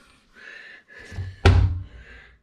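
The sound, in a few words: self-closing cabinet door shutting in tiny house kitchen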